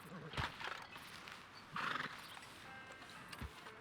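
Horse in Red Dead Redemption 2 giving a couple of short whinnies with faint hoof clops between them, fairly quiet and close by.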